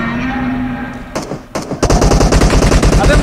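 PUBG Mobile gunfire: a few scattered shots, then a sustained rapid automatic burst of loud, evenly spaced cracks up close.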